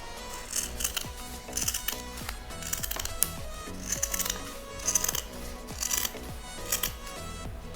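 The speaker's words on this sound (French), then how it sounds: "découper le surplus de tissu." Scissors cut away excess fabric in a steady rhythm of crisp, close snips, one after another, with no talking.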